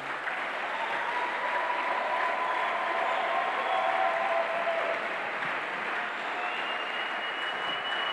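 A church congregation applauding, with steady, sustained clapping from a large crowd filling the room at an even level throughout.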